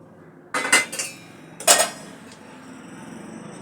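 Half-cooked bitter gourd is strained, with sharp metallic clanks and clinks of steel pots and utensils in two quick bursts, then a faint lingering ring.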